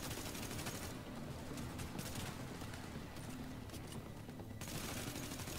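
Dense, continuous rattling gunfire in The Division, a co-op shooter at a napalm production site, rapid overlapping shots forming a loud, steady fusillade throughout.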